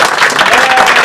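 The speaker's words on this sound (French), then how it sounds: "on applaudit Pigalle" Dense, loud applause from a comedy club crowd at a stand-up show in Pigalle, continuous clapping filling the whole moment without a break.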